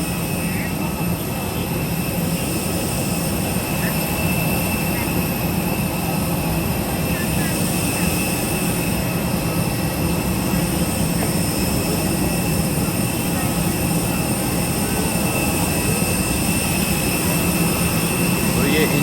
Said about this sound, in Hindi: इंजन है भाई, इसमें बहुत पावर होती है